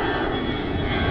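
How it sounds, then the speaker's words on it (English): A fixed-wing airplane passes overhead, its engine a steady, loud, broad roar filling the short stretch with no talk over it. "And here's another airplane."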